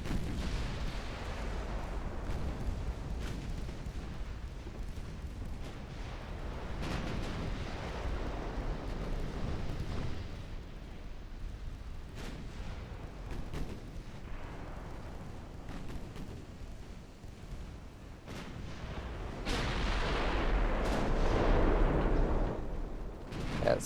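Warship guns firing in the naval combat game Ultimate Admiral: Dreadnoughts, repeated deep booming salvos and rumbling blasts rolling one after another, growing heavier near the end, with no talk.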